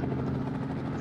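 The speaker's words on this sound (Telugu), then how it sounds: "నా హెలికాప్టర్ ఎక్కడ పడిపోద్దో నాకేం అర్థం అవ్వట్లేదు" Helicopter flying in the mobile video game Indian Bike Driving 3D, a steady droning rotor and engine hum held evenly for about a second with no speech over it.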